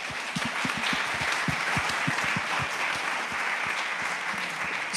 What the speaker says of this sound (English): So how about a round of applause for his effort?